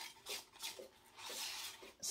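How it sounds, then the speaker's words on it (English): A tool scraping thick acrylic pouring paint out of a cup, several short rasping strokes in an uneven rhythm, close but quiet, with no voices. "I'm gonna scrape all of this out"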